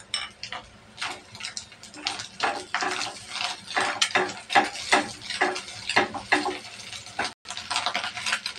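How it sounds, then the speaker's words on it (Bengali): Egg fried in a pan for noodles, dominated by repeated metallic spatula scrapes and clinks against the pan in an uneven rhythm over a soft sizzle, close and fairly quiet. "ডিমটা আমি ভালোভাবে ভেজে নেব।"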